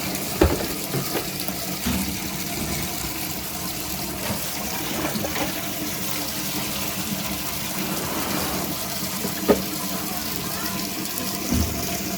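Tap water gushes steadily into a container of prawns being washed, a continuous close splashing flow with a few brief knocks, no talk over it.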